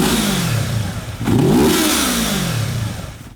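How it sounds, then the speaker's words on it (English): A Yamaha R3 motorcycle with a TST WORX exhaust revs up sharply, holds a loud raspy peak, then winds back down; close and alone, with no voices. "Everybody loves motor sound."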